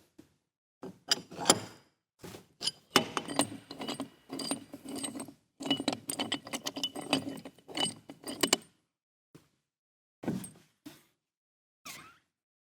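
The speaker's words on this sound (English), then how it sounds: "we'll undo this quick lock mechanism and remove the outer wheel" A quick-lock mechanism on a glass lifter is undone and its outer wheel removed, producing a close series of metallic clicks, scrapes and rattling clunks with short gaps, ending in a few isolated knocks.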